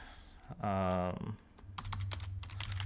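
Rapid, light keystrokes clatter on a computer keyboard in an irregular rhythm, following a brief tonal hum.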